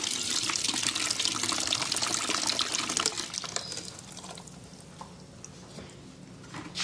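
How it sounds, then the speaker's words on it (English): Tap water pours steadily into a bucket on a tropical self-sufficient property in Far North Queensland, a broad splashing rush that is loud at first and then eases into a softer, thinner trickle. "And then this is the bucket and we turn the tap on."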